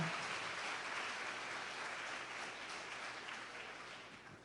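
Church congregation applauding during a sermon, a soft, even wash of distant clapping that stays steady and fades slightly toward the end.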